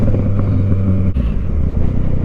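A Yamaha Tracer motorcycle engine runs loud and close on fresh tyres, a steady deep rumble with a brief dip midway, heard from the rider's position with wind roar.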